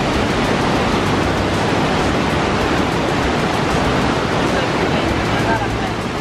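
Niagara River rushing through the Niagara Gorge at nearly 50 km/h, a steady dense roar of fast water filling the whole scene without a break, loud and close.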